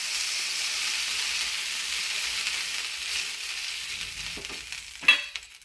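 Butter melting on a hot pan before dosa batter goes on, a soft steady hiss that stays faint and close, ending with a brief clatter of a utensil.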